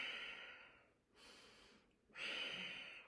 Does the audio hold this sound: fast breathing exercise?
yes